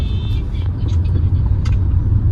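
Steady road traffic with car engines rumbling close by in a busy street, a continuous low drone with vehicles passing, while a person talks over it.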